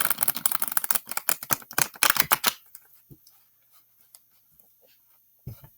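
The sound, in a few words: shuffling tarot cards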